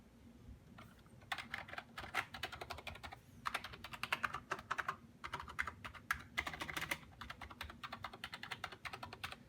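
Rapid bursts of typing on a soft, muted Hiraliy X11 membrane keyboard, quick clustered keystrokes with short pauses between runs, close and fairly quiet.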